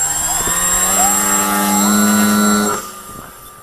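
A 46-inch scratchbuilt Depron RC model plane runs its electric motor at full thrust on takeoff, a loud close whine rising in pitch, holding steady, then dropping away sharply as it departs.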